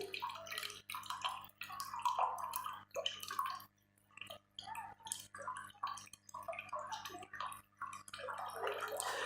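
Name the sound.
coconut milk being poured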